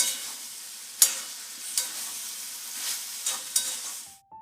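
Soybean, potato and pointed gourd curry stirred and fried in a pan, giving a steady soft sizzle with several sharp spoon scrapes and clinks spread across it, then a brief tone near the end.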